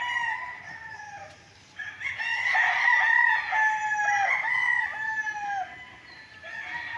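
Roosters crow repeatedly at a small roadside cockfighting training pit on a fenced farm lot in Pagsanjan, Laguna, with overlapping loud, drawn-out calls and a brief lull near the start.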